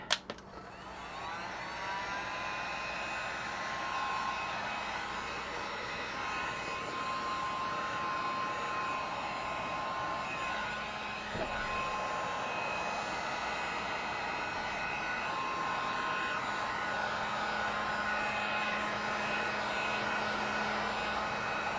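A hair dryer blows steadily at close range, drying wet ink on a canvas, its whirring hum and airy hiss running continuously and loudly with only slight shifts in tone.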